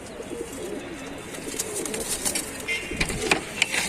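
Pigeons kept for sale in Tanta, Egypt coo softly and repeatedly in a low, throaty murmur, with a few higher chirps and faint background activity.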